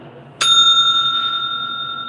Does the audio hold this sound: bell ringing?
yes